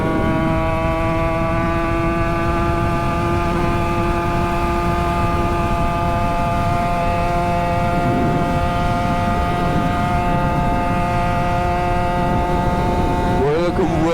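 Toyota 86 cruising at 110 km/h on a damp road, its engine giving a steady, even drone with a constant tonal hum over road and wind rush, unchanging throughout and heard from inside the cabin.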